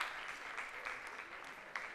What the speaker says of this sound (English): Ladies and gentlemen, let's give them a big round of applause.